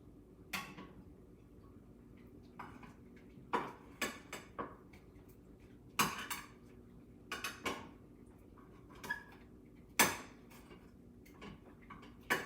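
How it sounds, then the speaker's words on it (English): Kitchen tongs handling food, with scattered sharp metallic clicks and clacks against a pan or dish, coming in irregular bursts over a quiet background, close and without speech. "That's why I'm using these tongs."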